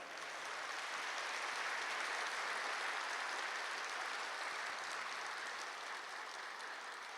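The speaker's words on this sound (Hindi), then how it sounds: "एक बार जोरदार तालियां बजाओ।" Loud, sustained applause from an audience at a spiritual talk. A dense, steady wash of clapping fills the full seven seconds with no voices over it.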